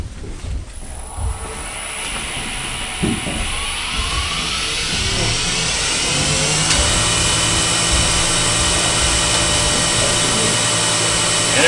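Wood spinning on a lathe under a spindle gouge, a steady whirring hum whose pitch climbs as the piece speeds up, loud and close with a rising tonal whine and no talking.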